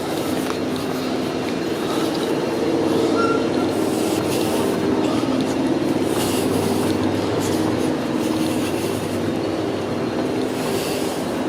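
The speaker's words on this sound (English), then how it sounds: "So I'm going to go down and get the train home." Steady rumble of a train at Toronto Pearson airport station, continuous rail noise with faint wheel squeal and clatter running evenly throughout, no voices.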